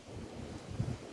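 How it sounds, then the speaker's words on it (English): Gusty wind blows across a microphone outdoors in a vegetable garden, a steady low rumble of buffeting that swells briefly near the end, with no talking. "It's windy today."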